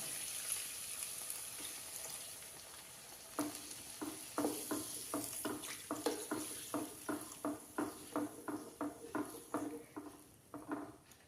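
Second-extract coconut milk is poured into a vegetable stew with potato and cauliflower, then stirred. A faint wet simmer is followed by a rhythmic series of soft, close ladle strokes through the pot, with no talking.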